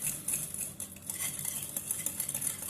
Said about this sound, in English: I'm going to put about a teaspoon of vanilla extract in there. Okay, just mix that in nicely.